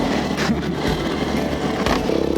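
A Yamaha FZ motorcycle engine roars up close as the rider pulls a wheelie on a mountain road, loud and uneven with revving surges and a rapid throbbing pulse near the end.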